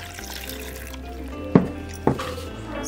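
Water is splashed into a ceviche base sauce with celery pieces, ginger and ground garlic, heard as a short wet trickle with two sharp splashy drips close by over a quiet kitchen background.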